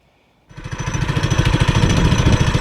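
A Predator 212 engine swapped into a Chinese ATV starts up after a short quiet moment and runs loud and close with a fast, uneven chugging pulse that surges and sags.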